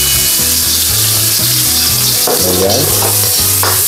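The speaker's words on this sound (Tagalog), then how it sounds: "saute po natin ang ating onion." Onion sizzles loudly in hot oil in a wok, a dense continuous frying hiss with stirring scrapes, close up, and a brief spoken word over it.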